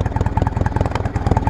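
A Yamaha V Star 650 Classic motorcycle engine idles close and loud, its rapid, even chugging pulses continuing steadily throughout, with no talking.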